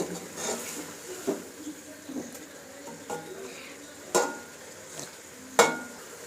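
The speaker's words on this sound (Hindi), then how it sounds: "ठीक तरीके से चम्मच हिलाना है" A spoon stirring radish and chicken curry (moli gosht) in a pot: intermittent scrapes and knocks against the metal, some sharper and louder, over a faint background sizzle.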